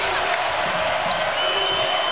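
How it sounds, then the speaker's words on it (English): Crowd noise swells steadily at a college basketball game between Ole Miss and Butler, a broad continuous roar of fans cheering throughout with no break. "Crowd getting into it"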